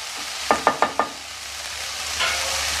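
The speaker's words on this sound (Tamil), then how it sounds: "தக்காளி போட்டு நல்லா கலந்து விட்டுட்டு ஒரு மூடி போட்டு மூடுங்க." Tomatoes with garlic sizzle softly in a pan, with four quick, close stirring scrapes near the start and a brief swell of frying later.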